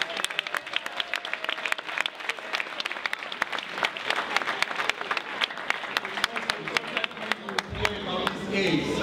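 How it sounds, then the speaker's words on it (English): An audience at a family conference variety show applauds steadily for several seconds, a sustained patter of many hands with a voice briefly over it near the end. "Do we want to clap for them once more,"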